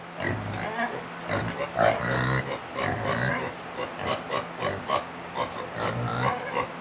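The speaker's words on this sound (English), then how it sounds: "Hey, pigs! Where's the other one? I hear her." Pigs grunt repeatedly close by, a steady run of short snorting oinks filling the whole stretch.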